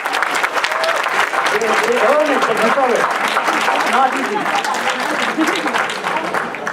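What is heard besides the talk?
audience applause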